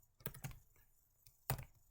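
Keystrokes on a computer keyboard while entering spreadsheet code, a quick cluster of a few clicks followed by a pause and then one firm, louder press like the enter key, close and clear with no talking.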